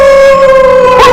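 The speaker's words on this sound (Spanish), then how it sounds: "de repente escuché un aullido" A sustained, steady howl holds one tone, then rises sharply and wavers near the end. It is loud and close, with nothing else beneath it.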